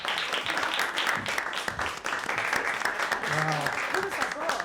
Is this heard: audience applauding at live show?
yes